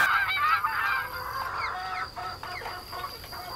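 Farm geese honk repeatedly at a poultry breeders' cooperative in Loué, several overlapping nasal calls at moderate distance over a steady background hum, with no talking.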